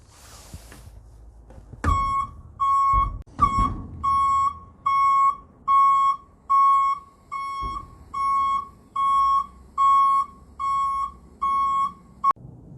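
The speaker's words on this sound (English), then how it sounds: "And with the alarm now sounding on the way back down." A loud, regular warning alarm beeps over and over in even pulses as the tipper body of a Ford Transit 350 lowers, with a few mechanical clunks at the start.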